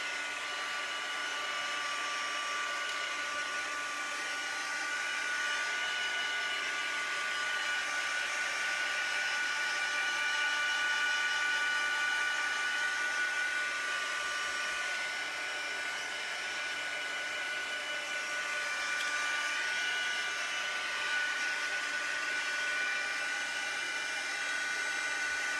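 A hair dryer blows steadily for the whole stretch, drying glued paper on an art journal page, with a constant close whine and no talking.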